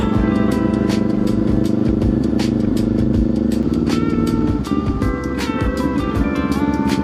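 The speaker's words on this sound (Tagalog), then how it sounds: "Tambutso ko, puro putok." A loud motorcycle engine runs steadily while sharp exhaust pops and crackles burst out repeatedly from the exhaust in a fast, irregular series, close to the listener, during a night ride.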